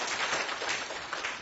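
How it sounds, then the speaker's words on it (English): Audience applause at a health advocacy conference, honoring the planning committee members; a steady wash of clapping fills the room for a short burst at moderate level. "So if we can have a round of applause for those individuals."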